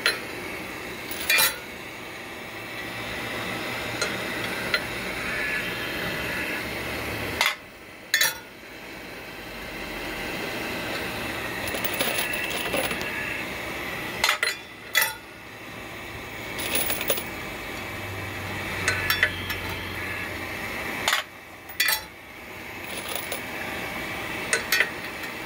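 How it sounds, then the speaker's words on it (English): Brass cartridge cases drop one at a time from a homemade annealer into a metal pan, each landing as a sharp metallic clink at irregular intervals several seconds apart over a low background hum. "You want to try to get the brass right before it turns red to drop out of this pan."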